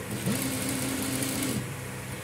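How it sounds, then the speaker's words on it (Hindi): A sewing machine stitches a lace neck design onto fabric in one steady, moderately quiet burst of about a second, with a faint hum before and after. "इस तरीके से आपने ये गले पे सिलाई लगा लेनी है"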